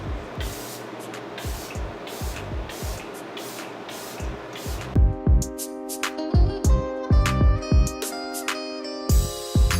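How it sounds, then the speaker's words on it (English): Kat Von D Lock It setting spray hisses in short, evenly spaced bursts close to the microphone, over background music that grows louder midway. "Just finishing this off with Kat Von D's Lock It setting spray."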